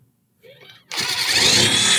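A Ryobi power driver kicks in after a brief quiet moment and whirs continuously, close and loud, while fastening during an off-grid camper trailer setup.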